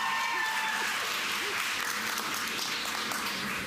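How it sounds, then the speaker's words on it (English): Audience applause at a Mills College event honoring Shirley Chisholm with a stamp, welcoming Speaker Pelosi; a steady, dense wash of clapping fills the room throughout, with faint voices underneath. "Give our historical woman who has been inducted in the Hall of Fame another round of applause"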